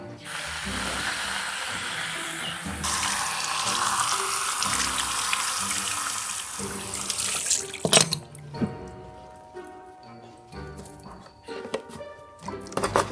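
Tap water runs into a basin while a barber washes a customer's hair in a neighborhood barber shop, a steady rushing stream that cuts off partway, followed by scattered drips, clinks and handling noises.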